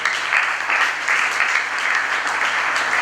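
Church congregation applauding in praise of the Lord, a steady, dense wash of clapping that holds evenly throughout with no voices over it.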